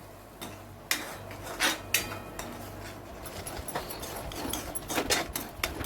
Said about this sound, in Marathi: आता हे वाटण आपल्याला परतून घ्यायचं आहे